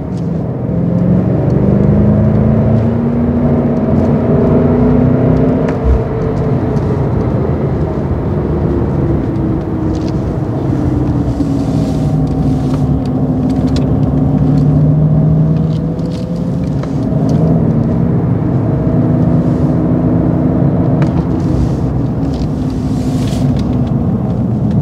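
BMW M5 Competition accelerating hard around a driving-centre race track, a loud continuous engine roar with rising and falling pitch sweeps as it builds speed through gears, heard from inside the car with no talk.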